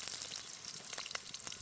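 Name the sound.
chopped green chillies sizzling in hot oil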